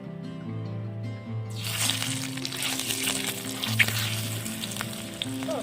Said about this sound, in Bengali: এবার আমি ডিমটা এক পিঠে হালকা ভেজে নেব।